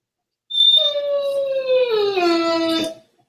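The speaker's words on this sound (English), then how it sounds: "Your dog sounds aren't making me optimistic." A dog lets out a single drawn-out howl, close and clear, gliding slowly downward in pitch for a couple of seconds before breaking off, heard alone against silence.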